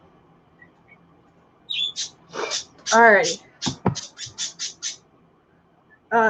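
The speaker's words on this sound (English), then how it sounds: "The birds are going to be noisy now." Noisy birds chirp and squawk close by in a rapid burst of repeated calls, some sharp and some warbling, after a quiet stretch; a voice speaks briefly.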